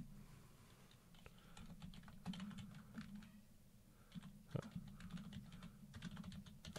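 Fingers typing on a computer keyboard nearby, quick irregular bursts of clacking keystrokes with short pauses between runs, quiet but distinct against a low steady room hum.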